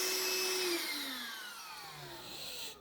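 Cordless vacuum cleaner, a budget Walmart model, running its motor: a loud, close whine that slides steadily downward in pitch as the motor winds down, with no voices.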